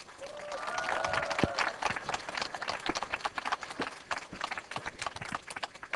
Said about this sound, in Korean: 송진구 교수님 큰 박수로 모시겠습니다